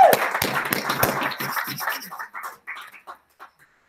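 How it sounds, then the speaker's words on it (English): Applause from a small audience at a wellness speakers showcase, a short burst of clapping that quickly thins to a few scattered claps before trailing off into quiet. "Round of applause for the universe."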